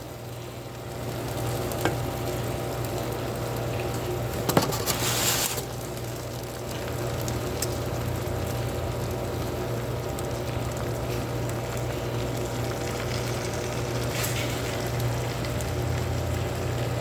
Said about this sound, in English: Hear that sizzle? That's perfect.